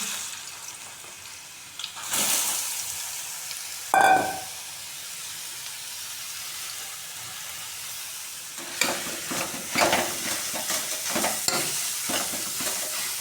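Chopped bottle gourd goes into a pan of hot desi ghee, starting with brief sizzling bursts and a sharp clatter, then quiet frying followed by repeated scraping stirs near the end, with no voices.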